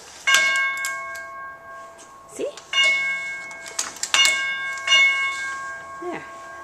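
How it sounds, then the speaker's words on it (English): An old chiming house doorbell rings out in clear, sustained tones, struck about four times in uneven succession with decaying ring between strikes, close by in a quiet indoor space; a voice speaks briefly. "I want you to hear this. The old doorbell."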